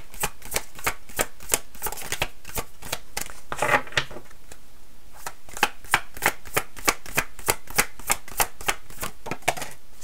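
Oracle cards being shuffled during a tarot-style reading, a steady run of crisp, evenly spaced riffling flicks close to the listener, continuing for the whole stretch with no voices.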